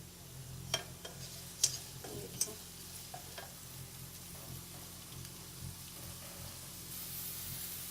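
Chopped onion sizzles in hot oil in a pan, a steady soft frying hiss with a few sharp crackles and spatters early on, quiet and close, with no talking.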